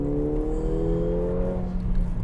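A Mercedes AMG A45, all-wheel drive, accelerating in second gear, its engine a steady rising drone with layered harmonics that climb gently and hold, no voices present.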